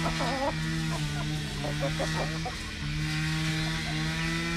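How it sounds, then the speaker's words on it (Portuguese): Índio Gigante chickens in a Ceará coop give a mix of honking calls and clucks over a loud, continuous droning hum that fills the space. "no galinheiro do Ceará, onde ele cria a raça Índio Gigante. Aqui alimenta os frangos"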